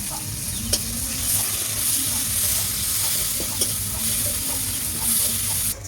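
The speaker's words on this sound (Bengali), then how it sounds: "তারপরে পেঁয়াজ কেটে দিলাম।" Sliced onions fry in oil in a pan with a loud, steady sizzle, broken by occasional scraping stirs and faint clinks, close up and without speech.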